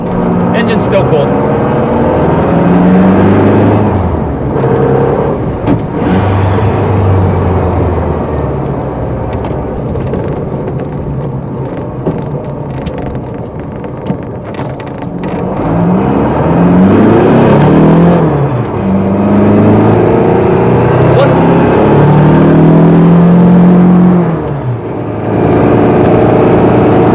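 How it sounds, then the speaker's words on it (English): Volkswagen Beetle engine warming up from cold on a hot day, rumbling and revving up and down in loud swells inside the car while someone talks over it. "Yeah, engine's starting to smooth out."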